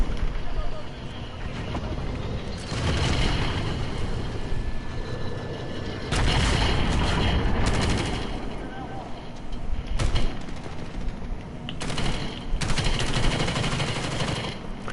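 Rapid, sustained gunfire from a PS4 game, loud bursts that stop and restart several times, with some talk mixed in.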